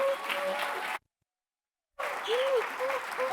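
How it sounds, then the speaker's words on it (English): Lecture hall audience at Dartmouth College applauds in a dense, steady wash of clapping, broken by a short gap of silence before resuming, with a voice faintly audible over it. "You're clapping now, but I'm going to ask you to clap again."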